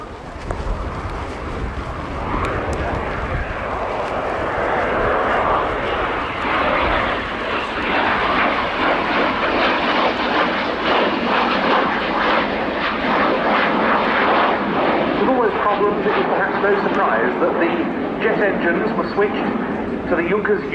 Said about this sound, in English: In Frick's first pass, the remarkable shape of the Me-262.